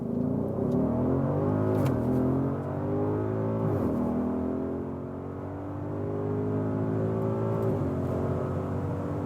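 An Audi SQ7 accelerates hard alone, its engine note climbing in pitch with clear drops at each gear change, loud and close throughout.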